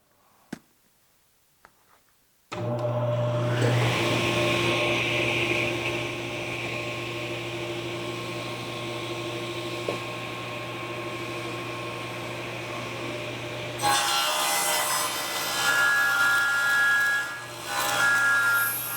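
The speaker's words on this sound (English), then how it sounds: "and make my second cut." A table saw spins up sharply and rips through a board of wood being shaped into molding, its motor whining steadily under the cut for about eleven seconds before the tone shifts as the cut finishes.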